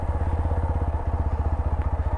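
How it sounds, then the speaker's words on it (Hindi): A TVS Apache 160 4V motorcycle engine runs at a low idle with no throttle, its single cylinder thumping in a quick, even rhythm close by, steady throughout without speech. "देख सकते हो आप बिना एक्सीटर के बाइक चल रही है"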